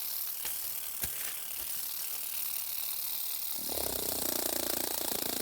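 A chhapai pen rolls over plastic paper, making a faint, close, rapid ratcheting patter that turns denser and more buzzing toward the end.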